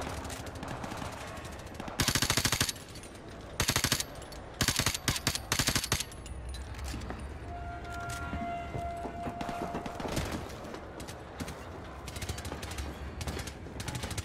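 Gunfire in Modern Warfare 1 Remastered: loud rapid automatic bursts in a few short clusters over a steady background of game ambience and effects.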